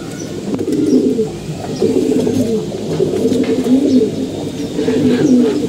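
Pigeons in a loft, mostly males, coo continuously in close, overlapping rolling phrases, forming a loud, steady chorus with no talking.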